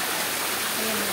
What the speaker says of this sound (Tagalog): Kuha kami ng tubig. Holy water.